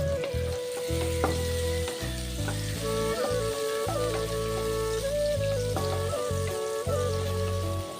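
Flattened rice (chira) pulao with egg frying in a hot pan, giving a steady close sizzle with stirring scrapes and clinks and a faint musical hum under it, and no talking.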